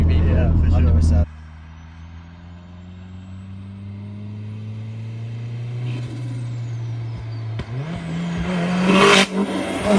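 A modified 552bhp Vauxhall Astra VXR on low boost gives a sharp burst, then settles into a steady droning idle-like hum, followed by a rising rev and rougher roar near the end, close and loud.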